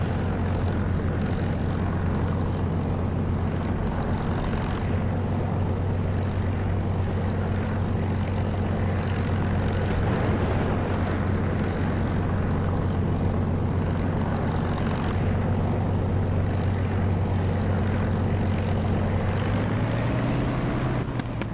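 A propeller aircraft engine in the DCS flight simulator runs steadily throughout, a loud continuous drone with a strong low hum that rises in pitch near the end as power increases for takeoff.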